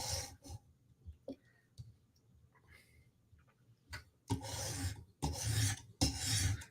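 A Spartan Harsey knife blade is drawn across a sharpening stone in rasping strokes, at first sparse and soft, then three loud, sustained scraping passes close to the listener.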